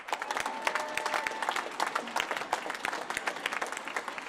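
Audience at an annual general meeting clapping, a steady patter of many hands that carries on for several seconds at moderate level, filling the room without any speech over it.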